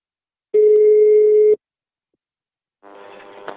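A single steady telephone tone lasting about a second, then silence, then a fainter, buzzier telephone tone as a call is placed, heard clearly with no talking over it.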